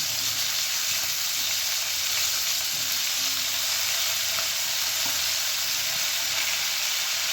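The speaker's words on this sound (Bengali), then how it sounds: "আর আলু একটুখানি ভেজে নেব। এবার আমি দিয়ে দেবো বেগুন।" Eggplant and potato, with beans, frying in a pan, giving a steady close sizzle and crackle throughout with occasional stirring and no talking.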